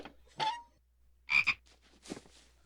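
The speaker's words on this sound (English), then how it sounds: "A frog escapes and jumps away." A frog croaks in a dark text adventure video game. Three or four separate croaks come in short bursts, some doubled, with quiet gaps between them and no voices.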